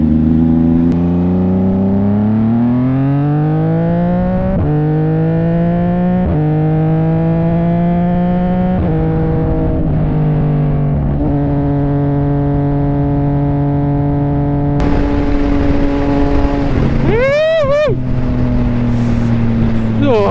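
A loud CFMOTO 675NK motorcycle engine with an aftermarket full-system exhaust climbs through revs, then downshifts repeatedly, its exhaust rumbling and popping with rapid throttle blips, close to the microphone.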